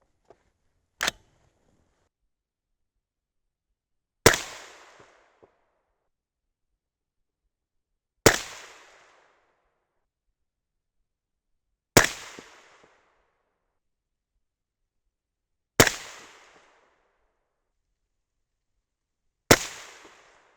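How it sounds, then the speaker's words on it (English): Federal AR match rifle primers test fired one at a time, six sharp cracks spaced a few seconds apart, each a loud close snap with a short ringing decay and silence between. "the last primer is the Federal AR match primer"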